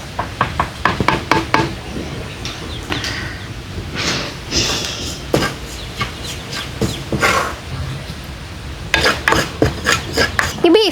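A knife chopping tomatoes on a board in a home kitchen while beef curry is made, sharp irregular knocks in bursts with pauses, close and fairly loud.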